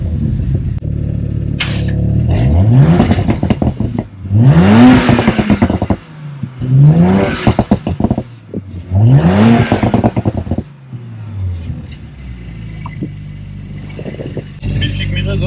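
A 2022 Audi RS5 with a 450 hp V6 revs its exhaust in four loud, rising bursts, each falling back to a rough idle, with a quieter idle at the end.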